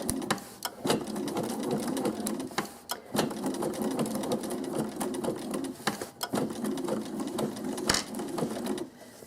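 A sewing machine runs a zigzag stitch on quilt applique, a steady close mechanical whir in three stretches of several seconds, broken by short stops with clicks as the fabric is pivoted.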